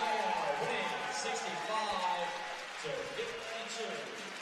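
Crowd cheering and applauding at a wheelchair rugby world championship match, a steady, broad wash of claps and shouts that carries on throughout without pause.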